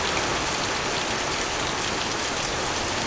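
Heavy rain pours steadily during a thunderstorm with hail at an outdoor car lot, a dense, loud, unbroken hiss close around the listener, with no talking.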